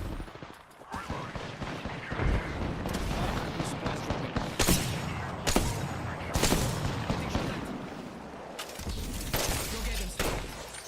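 Grenade blasts and rapid gunfire in an Ironman Barrows Brothers game run, loud and continuous, with repeated sharp booms and bursts at close range and voices talking under the din.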